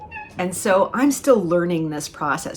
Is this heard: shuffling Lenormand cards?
no